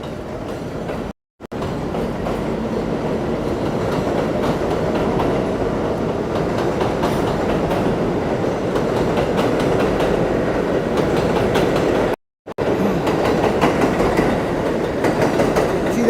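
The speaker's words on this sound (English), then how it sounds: "Here's the train." A subway train rumbles steadily close by, wheels clattering on the rails, with two brief dropouts and no voices.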